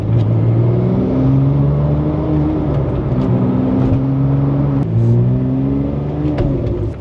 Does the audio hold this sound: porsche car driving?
yes